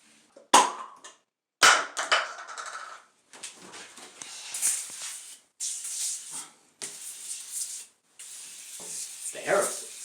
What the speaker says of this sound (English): Well, that's why we got the aerosol can. It foams up nice and works harder so you don't have to.